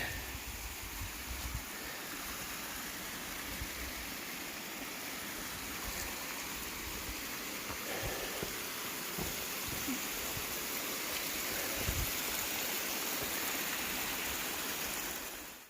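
Steady rushing water flows continuously down a rock water slide on the Appalachian Trail near Wesser Bald, a broad even wash of sound with no voices.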